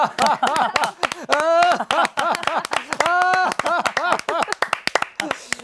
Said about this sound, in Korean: 양손바닥을 약 20cm 간격으로 벌리신 후에 가슴을 펴시고 전방을 향해서 15초 동안 박수를 치면서 크게 웃는 것입니다